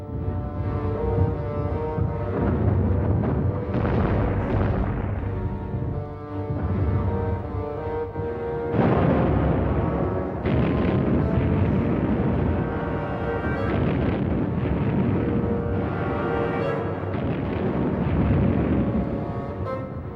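Repeated artillery explosions from enemy fire on a World War I Western Front battlefield, a dense, loud, continuous rumble of booms that swells and surges for the whole stretch, with no voices.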